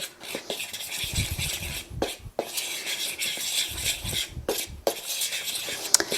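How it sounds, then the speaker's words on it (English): Cocoa powder and salt stirred together in a bowl, a soft, uneven scraping and rubbing of a utensil that comes in several short bursts with brief pauses between them, close by and fairly quiet. "I'm just going to stir that together"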